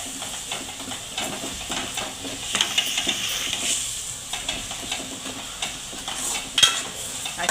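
Vegetable bhaji stirred in a pan over high flame, with irregular spoon scrapes and clinks over a bed of sizzling, close and moderately loud.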